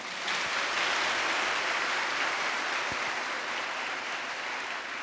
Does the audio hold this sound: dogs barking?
no